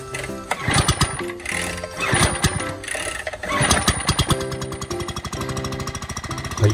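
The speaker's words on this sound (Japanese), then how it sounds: "前回直したばかりのポンプはね、エンジンはね快調にこうやってかかってくれました" A small engine-driven water pump starts up at an old well and runs steadily, a loud rapid chugging with dense mechanical clatter that holds an even pace throughout.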